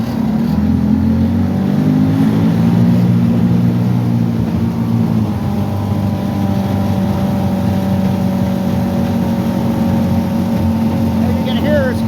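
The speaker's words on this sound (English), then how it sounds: "We're gonna let it growl. Go for a little boat ride." A 1963 Crestliner boat powered by a 75hp Evinrude outboard motor runs on the water, a loud, close, continuous growl that rises in pitch before settling into a steady drone throughout.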